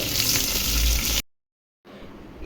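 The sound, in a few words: onion pieces and green chilies frying in oil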